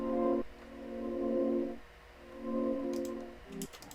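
Synth pad shaped by a ShaperBox movement effect, swelling chords that pulse in and out in slow waves with brief clicks near the end, alone with no voices.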